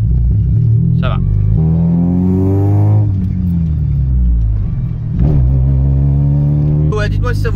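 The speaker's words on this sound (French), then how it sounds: "Là, on a fini de faire chauffer la voiture." A Honda Civic engine being warmed up idles with a loud, close rumble and revs up twice, pitch sweeping upward each time, with a couple of brief vocal sounds.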